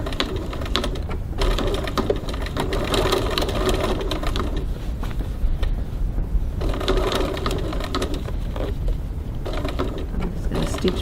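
A sewing machine stitches across and down a crossbody bag strap at a 3.4 stitch length, a steady close mechanical whirring that runs for several seconds, pauses briefly, then resumes.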